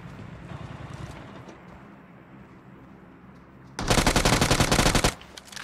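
Video-game gunfire from a bot in a lobby-rush match: automatic fire bursts into a loud, dense rattling volley near the end, after a quieter stretch of engine and ambient game noise.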